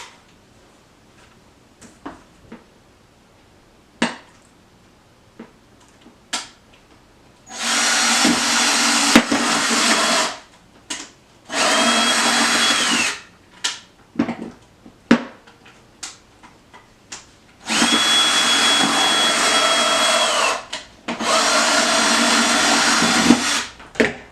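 A power drill boring holes through a plant pot while replanting, running in four loud sustained bursts with brief pauses between and faint handling clicks during the quieter gaps.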